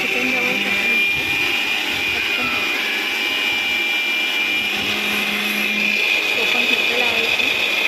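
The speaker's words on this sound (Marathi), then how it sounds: "मिक्सर लावत आहे." A kitchen mixer grinder runs continuously, giving a steady, fairly loud whirring drone with no breaks, and faint voices can be heard now and then behind the motor.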